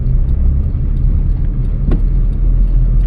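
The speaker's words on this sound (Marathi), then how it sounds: "एक्सिलेटर करा सावकाश." A car engine hums low and steady as the driver gently presses the accelerator during a driving lesson, a close, continuous rumble inside the cabin with a faint brief knock partway through.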